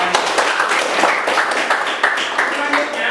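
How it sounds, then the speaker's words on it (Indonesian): A classroom audience of students claps after group poster presentations, a dense patter of many hands lasting a few seconds, mixed with voices. "tepuk tangan dulu"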